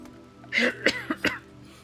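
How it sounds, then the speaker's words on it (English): A man coughs and clears his throat several times in quick, close succession near a microphone, with short rough bursts separated by brief pauses against a quiet background. "Sorry, this time I might be coughing a little bit more."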